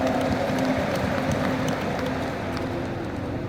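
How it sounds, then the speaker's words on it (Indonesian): An indoor crowd applauds Mas Dede at a PDI Perjuangan gathering, a steady dense patter of many hands that fades slightly toward the end. "Tepuk tangan ini untuk Mas Dede."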